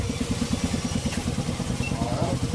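A motorcycle engine idles nearby with a steady low, pulsing throb and a faint rise near the end, close and fairly loud, with a voice briefly heard over it.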